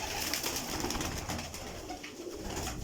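Breeder pigeons coo in a loft, soft repeated throaty calls overlapping close by with a rustling, busy background and no talk.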